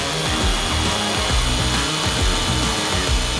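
A Hikoki SDS-Plus rotary hammer drilling a reference hole, a loud, continuous rapid hammering with a steady motor whine, close up with no talk.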